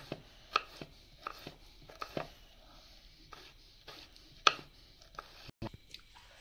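A knife chopping pineapple into small pieces on a board, with quiet, irregular sharp taps, some in quick pairs and one louder cut, separated by pauses.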